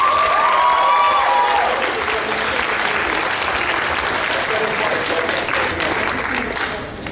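A big round of applause from the audience at an anime convention costume contest, loud sustained clapping with a brief cheer or whistle near the start, gradually tapering at the end.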